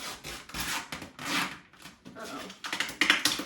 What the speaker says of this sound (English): That was a good peel.